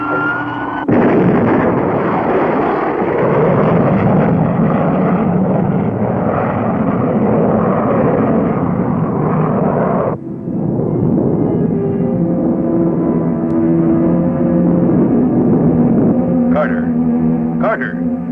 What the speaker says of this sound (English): you are clear for blast off